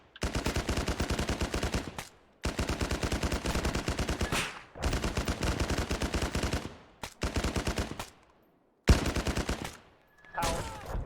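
Sustained automatic gunfire from the video game Arma hammers out in long, loud, rapid bursts separated by brief silences, with a final shorter volley and a sharp single crack.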